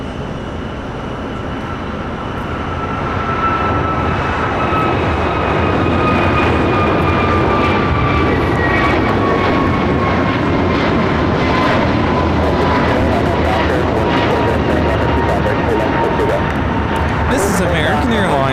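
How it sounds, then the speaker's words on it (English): An American Airlines Airbus A321neo taking off from LAX builds to a loud, sustained roar with a falling whine, close and steady, and voices talk beneath it. "American Airlines 1251 taking off to Miami, Florida on the A321neo."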